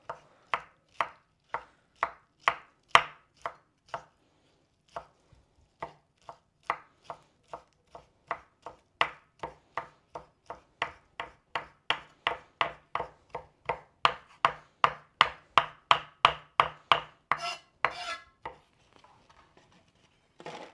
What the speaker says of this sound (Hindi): अब ये मशरूम हमने काटनी है, ये भी बस आपने छोटे छोटे पीसेस में काट लेनी है